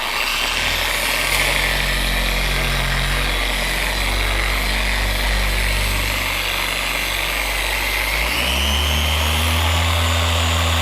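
A car polisher runs loud and continuous at a high speed setting during paint correction on a C7 Corvette Grand Sport, its whine holding steady and then dropping slightly in pitch near the end.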